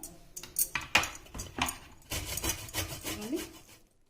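Rhythmic scraping strokes of bottle gourd being grated, close and fairly quiet, with an uneven rasping pattern and no talking.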